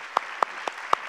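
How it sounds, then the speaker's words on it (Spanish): Applause for volunteers at a community gathering: four separate loud claps spaced roughly a quarter second apart, sharp and close, over a low hum of room noise. "Vamos a darle un aplauso a esta gente que es voluntario"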